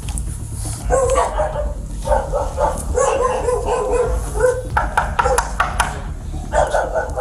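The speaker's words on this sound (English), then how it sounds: "I'm gonna put my dog in the bathroom, okay?" A dog barks repeatedly and loudly at close range in an indoor domestic confrontation, sharp yapping bursts in quick irregular runs over a low background rumble.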